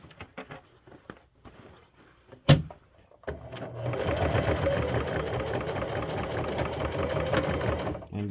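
Sewing machine stitching a curved hobo bag, running a steady, fast mechanical whir for several seconds after a sharp click, with quieter handling sounds before it starts.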